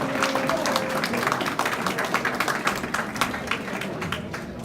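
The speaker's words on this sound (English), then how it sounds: "Let's give another round of applause to Ada Deer" An audience at a Wisconsin grassroots festival claps in a sustained round of applause, dense and steady, slowly thinning toward the end.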